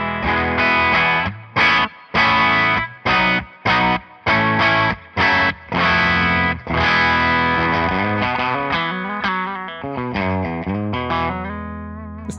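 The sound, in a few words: electric guitar through amp on clean voice position 1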